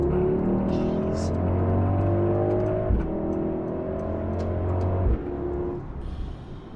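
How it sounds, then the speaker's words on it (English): A 603 hp Mercedes AMG GLS 63 accelerates hard up a canyon road, its engine and exhaust droning loudly through gear changes, heard from inside the cabin. "The exhaust changes, gets louder"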